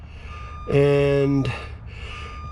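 Dashboard warning beeps of a 2005 Sterling tri-axle side-load 30-yard garbage truck sound as the ignition switches on: a loud, sustained chime lasting under a second, close by, with someone speaking briefly before it.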